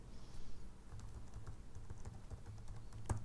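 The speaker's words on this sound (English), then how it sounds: "yes, I'm typing it all" Steady, quiet typing on a computer keyboard, with fast irregular key clicks continuing throughout and no voices over them.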